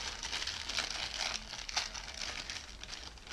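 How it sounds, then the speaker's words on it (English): A black plastic bag crinkles and rustles steadily at close range during an unboxing, with no voices over it. "A black plastic bag."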